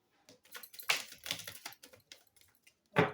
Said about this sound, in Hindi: दिस माई लास्ट शफल, जिसको आना है आ सकता है।